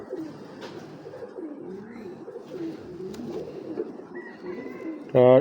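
An original racing pigeon coos in low, rolling phrases, a few nearby birds murmuring steadily before a sudden loud buzzing burst at the very end.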